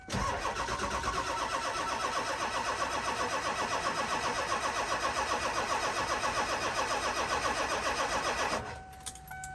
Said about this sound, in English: as you can tell, it cranks evenly, has a lot of miles on it